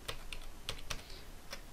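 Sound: typing Alt+0215 on computer keyboard

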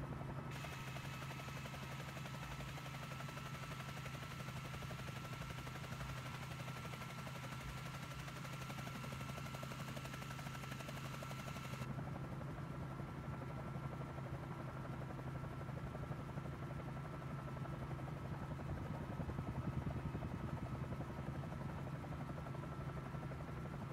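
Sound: Bell 47J helicopter engine in Microsoft Flight Simulator video game

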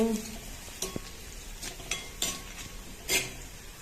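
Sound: onions frying in oil

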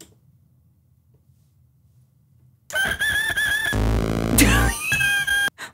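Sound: toy farm animal sound of rooster crowing

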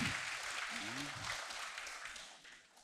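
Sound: applause

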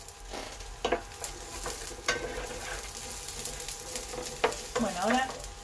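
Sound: chopped onion sizzling in a frying pan with garlic

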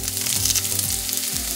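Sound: onion frying in a pan

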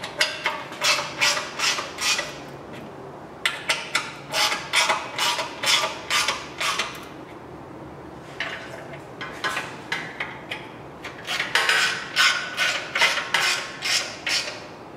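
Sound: tightening transmission shield bolts on a Chevrolet 454

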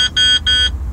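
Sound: beeping

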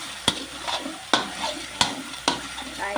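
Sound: stir-frying Thai curry paste in a pan

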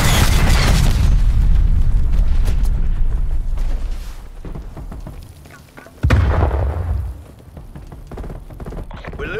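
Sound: incoming artillery strike explosions in Call of Duty video game

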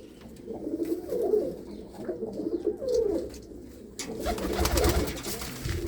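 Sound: pigeons cooing in loft

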